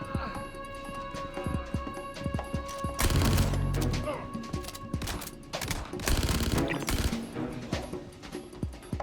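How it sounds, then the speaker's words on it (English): Rapid gunfire from a Gemini LH86 pistol in the game Star Citizen, aimed at heavily armored NPCs, with quick bursts of shots and heavy sustained volleys around the middle and near the end, loud and close with no talking. "Watch how quickly I melt these heavy armored NPCs with the LH86."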